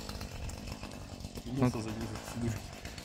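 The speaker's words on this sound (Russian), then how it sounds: "поэтому Максим начинает пилить заново" A chainsaw cuts firewood at a riverside fishing camp in southern Komi, a steady buzzing drone heard under someone speaking nearby.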